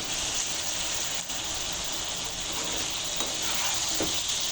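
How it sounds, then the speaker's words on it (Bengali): Vegetable stalks sautéing in hot oil in a pan for a village-style prawn curry, giving a close, continuous crackling sizzle with occasional stirring scrapes and no talking. "আর ডাঁটাটা অনেক ভালোভাবে কষানো হচ্ছে।"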